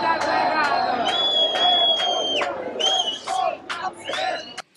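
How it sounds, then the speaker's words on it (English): A crowd on the courthouse stairs yells and chants in loud, sustained overlapping shouts, rising in repeated waves, with a closer voice briefly standing out. "There were people out on the stairs in front of the courthouse, and for a long time they yelled,"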